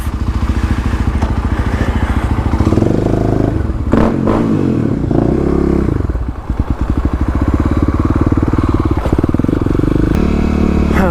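A Kawasaki KLX dirt bike engine idling close by under a small canopy and repeatedly revving, rising and falling in pitch with a rough, clattering pulse over several seconds.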